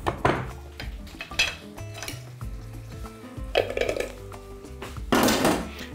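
An orange is peeled and cut into small cubes with a knife in a home kitchen, with scattered knocks and scrapes against a board and dishes, some sharp clatters, and a soft sizzle nearby.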